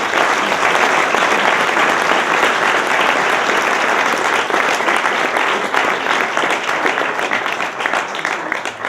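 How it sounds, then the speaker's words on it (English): At an awards ceremony, a large audience applauds in a dense, steady wash of clapping that holds loud and even for nine seconds, with no talk over it. "Let's give a round of applause for the Daily Hampshire Gazette."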